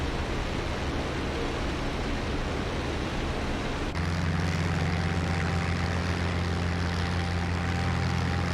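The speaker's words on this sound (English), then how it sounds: "while flying a P-51 Mustang" Simulated P-51 Mustang engine in the IL-2 Sturmovik flight game, a steady dense propeller drone and rushing wind that shifts midway into a deeper, stronger hum, loud and continuous with no talking.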